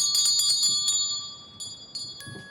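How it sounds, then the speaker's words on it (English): A small hand bell is rung at an altar during a ritual: a quick run of bright, ringing strikes, then a pause and a few scattered chimes, each leaving a clear lingering tone. No one speaks. "she started ringing her bell"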